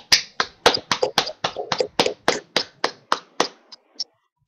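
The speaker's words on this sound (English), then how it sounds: "Can you please unmute and give Marilyn Timms a really great round of applause?" Sparse clapping from an unmuted online audience after a poetry reading at an International Women's Day event, about a dozen distinct, sharp claps in a loose uneven rhythm, close and clear, slowing and fading to silence.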